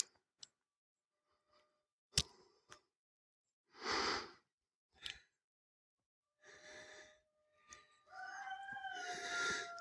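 Roosters on a snowy Arkansas Ozarks homestead crow in separate bursts against near silence, with soft footsteps and breathing nearby and a longer, louder crow at the end.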